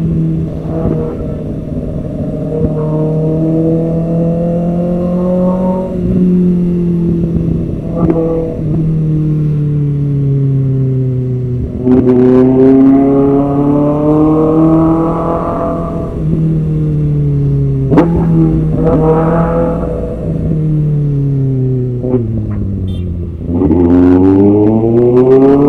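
A car engine drones close by in heavy traffic, rising and falling in pitch through repeated acceleration and slowing, with a steady low rumble throughout and no talk.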